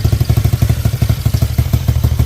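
A Honda Click scooter engine, 199cc with an exhaust leak, running with a loud, steady putter, close by and continuous, its rapid low thumps repeating evenly.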